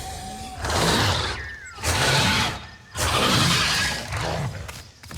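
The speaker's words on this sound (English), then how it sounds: "Here's its broadcast." Austroraptor broadcast call in The Isle, a loud, bird-like call repeated in three or four long harsh bursts with whistling tones, each separated by short gaps, with no talking.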